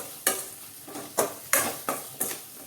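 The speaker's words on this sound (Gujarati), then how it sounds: "કેરીના કટકા અને મરચાના ટુકડા બધું આપણે સરસ મિક્સ કરી દઈએ" Mango and chili pieces for a lasoda (gunda) sambharo are stirred in a pan, six quick rhythmic scrapes and clatters about every third of a second, close and clear over a faint sizzle.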